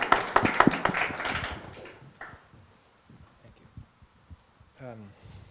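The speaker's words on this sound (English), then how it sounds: "Round of applause." A festival audience at a data science panel gives a brief burst of clapping that fades within about two seconds, leaving near quiet with faint scattered sounds and a short voice at the end.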